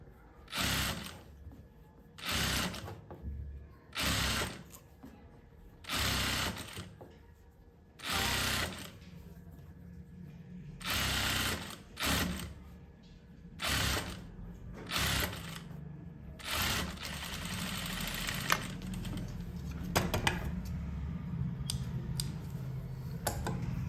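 Sewing machine stitching along the edge of a piece of fabric in a sewing class, running in repeated short bursts of rapid mechanical whirring separated by brief pauses, with a steadier stretch of stitching toward the end.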